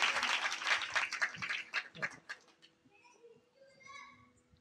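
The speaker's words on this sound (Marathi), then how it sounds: "टाळ्या वाजवा ना" Scattered clapping from a devotional kirtan gathering, brisk at first with children's voices mixed in, then thinning out into faint murmurs and chatter.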